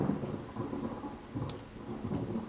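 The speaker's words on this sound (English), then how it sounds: "Because it's thundering and storming" Thunder rumbles low and rolling through a steady wash of rain during a storm outside, the deep swells rising and fading in waves at moderate distance with no voices.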